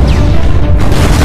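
An explosion sound effect in the trailer for the animated movie Dick Figures: a loud, dense booming rumble filling the whole moment with crashing low-end noise.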